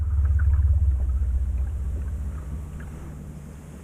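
A duck boat's outboard motor idles low on the water, a steady deep rumble with a rhythmic chug from the barely turning propeller, close and fairly loud, easing slightly quieter toward the end, with wind noise and no talking.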